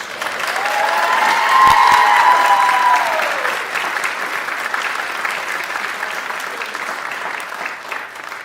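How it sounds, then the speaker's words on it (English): An audience applauds a collaborative pianist at a choral conducting lecture recital. The clapping swells to a full, steady roar with a brief cheer rising over it, then thins out gradually over several seconds. "Let's give her one more round of applause."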